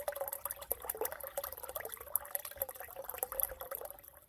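A solar-powered fountain in a garden pond sends water running in a steady, gentle trickle and splash, continuous and fairly quiet, with no voices.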